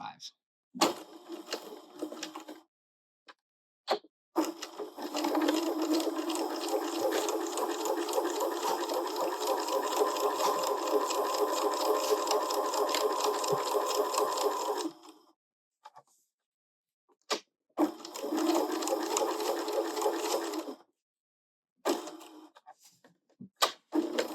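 A sewing machine stitches a fabric caterpillar toy, with backstitching at the start and stop and a short 1.5 stitch length. It whirs in a long, steady run of about ten seconds, then a shorter run follows after a brief pause.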